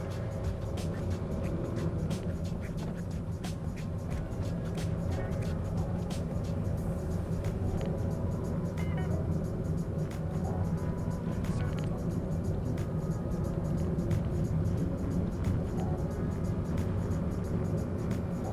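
A car pulls away on a driving test route in Halifax, with a steady engine drone and road rumble from inside the cabin throughout, sustained and moderately loud.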